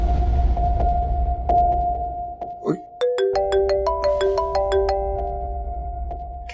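A mobile phone ringtone plays a bright, stepping electronic melody of clear tones that repeats several times, following a stretch of soft background music and a brief rustle.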